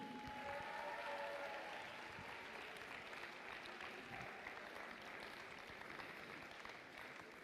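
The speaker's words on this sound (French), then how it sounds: "on va applaudir très fort notre capitaine de l'Alliance 3, Robotech Saint-Jean, 28418" Audience applause at an FTC robotics regional competition in Neuville-sur-Saône for an alliance captain team, steady and faint throughout the clip.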